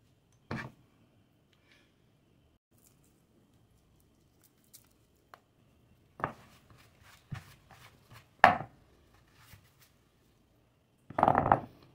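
Garlic cloves being peeled by hand in a home kitchen while preparing sinigang, heard as sparse, quiet dry crackles and papery rustles with long silent gaps between them and a few sharper snaps near the end.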